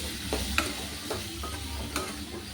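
Tomatoes and onions frying in a pan while being stirred, a steady sizzle with several sharp scrapes and clinks of the spoon at irregular intervals, close up.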